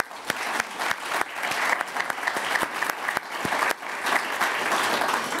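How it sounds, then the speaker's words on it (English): Audience applause at a university global oral health symposium, a steady dense wash of clapping from a hall crowd that continues without a break throughout. "but first a thank you and applause to him"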